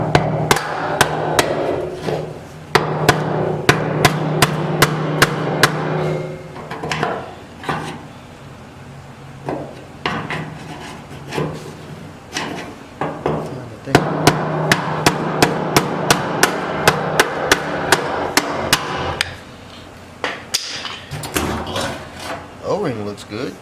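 Sharp metallic hammer blows strike the top of a 1981 Pontiac Trans Am part to crack it open, coming in rapid bursts of repeated hits with pauses between, close and loud, with a voice speaking in places.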